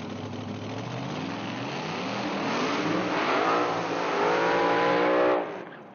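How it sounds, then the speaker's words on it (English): A supercharged 547 cubic inch big-block top dragster does a burnout at a drag strip, a loud, steady engine roar that climbs in pitch and then cuts off abruptly. "Great burnout by Kevin Fischer from Lima, Ohio"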